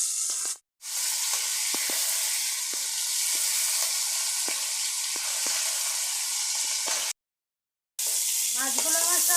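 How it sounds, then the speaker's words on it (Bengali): Steady, loud sizzling of food frying in hot oil, crackling with occasional pops, broken by two brief silent gaps; a faint voice appears at the end. "ভাজা হয়ে গেছে তুলে নিচ্ছি"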